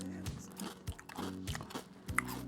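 Close crunchy bites and chewing of a sweet, crunchy food, several sharp crunches in uneven rhythm at moderate level, with no talking.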